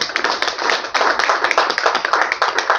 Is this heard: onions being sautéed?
no